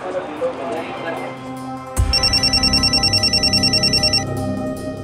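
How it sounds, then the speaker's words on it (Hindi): A phone suddenly starts ringing with a rapid, pulsing electronic trill, loud and close, for about two seconds before it stops. "किसी का फोन है।"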